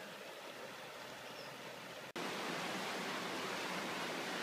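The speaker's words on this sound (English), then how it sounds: "You hear the water." Water rushes steadily far below in a desert sandstone slot canyon, a broad continuous hiss that grows slightly louder after a brief dropout midway.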